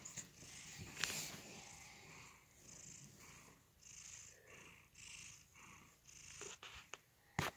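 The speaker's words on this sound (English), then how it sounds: "I know he's so loud when he purrs" A house cat purrs loudly and close up in a steady rolling rhythm that pauses briefly partway through, with no talking.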